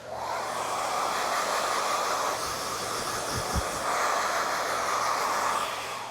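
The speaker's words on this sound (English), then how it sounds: "I would then suggest maybe taking a blow dryer" A blow dryer runs steadily with a loud, continuous whooshing roar from start to finish.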